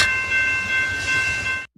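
A train sound effect played over a live stream: steady horn-like tones ring above a rumbling rail clatter, loud and continuous, cutting off abruptly at the end.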